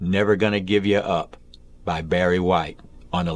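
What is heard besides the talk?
No everyday noises stand out.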